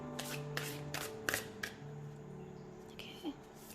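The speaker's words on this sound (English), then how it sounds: "I'm gonna keep shuffling until my intuition tells me to stop." Tarot cards are shuffled by hand in quick, crisp bursts of riffling and slapping, a few clustered strokes early on, then quieter handling, close-up against a faint background hum.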